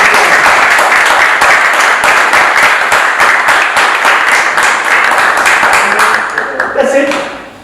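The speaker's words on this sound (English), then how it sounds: "I want to have a special applause for Eugenio" Sustained applause from a large audience at a lecture, dense clapping that fills the room before tapering off at the end.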